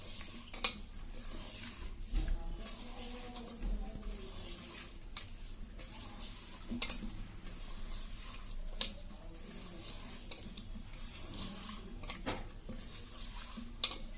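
Cauliflower florets are mixed by hand with a spice coating for restaurant-style Gobi 65, giving soft, irregular squelches and light bowl clatter, fairly quiet and close, with no talking.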